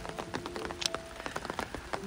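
Rain patters on surfaces at a Bali outdoor scenic spot, a steady scatter of soft close taps and drips with no voices.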